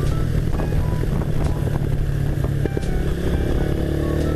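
A motorcycle engine rumbles loudly and continuously nearby, with wind buffeting the microphone throughout.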